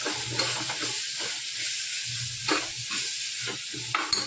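Chili powder and sambar powder masala sauté in a hot pan, a steady close sizzle and hiss with occasional scraping stirs, no talking.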